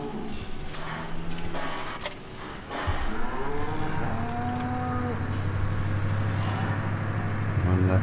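Cattle in Farming Simulator 2015 low and moo repeatedly in long drawn-out calls, several overlapping, over a steady hum of farm machinery and background game ambience.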